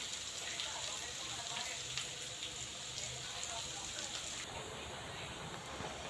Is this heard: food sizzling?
yes